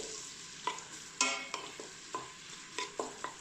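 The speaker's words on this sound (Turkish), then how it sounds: "Soğanlarımızı çok güzel kavuralım burada." Chopped onions sizzle in hot oil while a spoon scrapes and clacks against the pot in irregular stirring strokes, the base of a Turkish kenger (şevketi bostan) stew.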